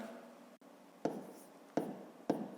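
A pen writes numbers by hand for a fifth-grade math exercise, making three short, quiet scratching strokes close up, each separated by a brief pause, in an otherwise hushed room.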